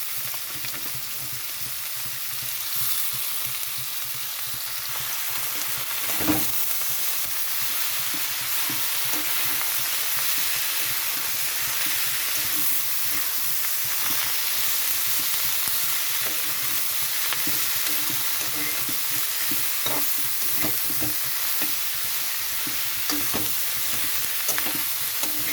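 Pea pod shells frying and being stirred in a wok with shrimp, tomato, salt and turmeric, a steady close sizzle with occasional stirring scrapes and clinks throughout, no talking.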